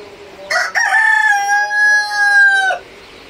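A large golden rooster lets out a single loud, close crow of about two seconds, rising at the start and holding steady before breaking off, with no other sound around it.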